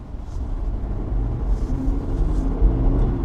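A heavy Jeep Gladiator Sport with a naturally aspirated 3.6-liter V6 strains up a hill, a steady low engine drone and road rumble heard from inside the cab, with no talk.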